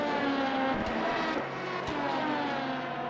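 A roaring race car engine at the 6 Hours of Monza in a WEC sim-racing event, a loud steady drone with shifting pitch and brief gearshift breaks, heard alone with no talk.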